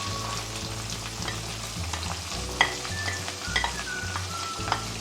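A medium-sized onion, finely chopped, frying in oil with cumin: a steady close sizzle with a low hum beneath and a few sharp spoon taps against the pan, no one speaking.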